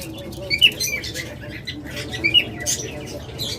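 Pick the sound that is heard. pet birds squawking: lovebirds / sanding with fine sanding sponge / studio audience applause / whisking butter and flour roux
pet birds squawking: lovebirds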